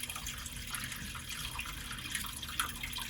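Water drains from the filter of a Whirlpool front-loading washing machine with a broken pump, trickling and splashing steadily into a container nearby at a constant, moderate level throughout.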